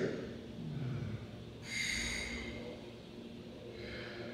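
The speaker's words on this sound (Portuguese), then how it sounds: "daí você respira." A player draws a soft, audible breath in through the mouth before blowing a wind instrument, with a short airy rush over quiet room sound.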